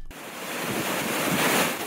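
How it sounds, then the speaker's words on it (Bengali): Rough surf of the Bay of Bengal at Kuakata, stirred by a low-pressure system, roars in a broad continuous wash with strong wind, swelling louder toward the end. "পটুয়াখালীর কুয়াকাটা সংলগ্ন বঙ্গোপসাগর বেশ উত্তাল হয়ে উঠেছে"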